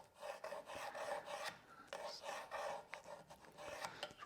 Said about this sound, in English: Drawing that line there.